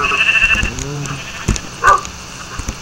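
Sheep bleating in a video game, a few short bleats spread over the clip amid other game sounds and faint background noise.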